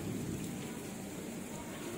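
Steady rain falls outside a hostel at a dental college, a dense, even hiss of drops with low rumbling beneath, continuous and fairly distant, with no voices.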